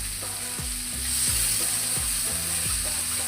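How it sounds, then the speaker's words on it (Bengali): Sun-dried lentil dumplings (bori) fry in a pan of hot oil after aubergine for a vegetarian dish. A loud, steady sizzle runs throughout, broken by several sharp scraping knocks of stirring. "ডালের বড়িটা খুব ভালো করে ফ্রাই করতে হবে"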